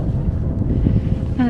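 Strong howling wind with about 100 mph gusts on a ski slope in Andorra's Grandvalira area, a heavy buffeting roar battering the microphone and drowning out a voice that can barely be made out.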